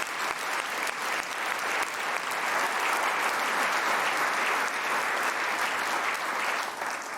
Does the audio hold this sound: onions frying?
no